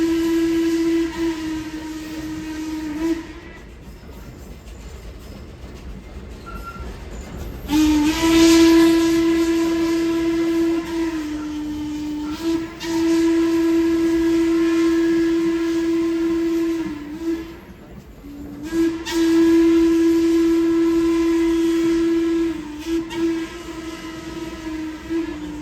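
Sugar Express steam train sounds its whistle in three long, loud blasts separated by brief pauses, with the chuff and rumble of the running locomotive beneath.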